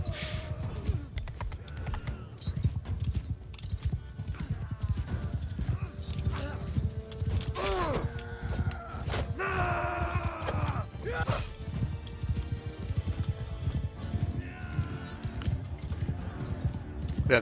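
Horse hooves clip-clop at a gallop with a few neighs during mounted combat in the video game Mount and Blade 2 Bannerlord, steady and loud over clashing battle noise and a voice talking.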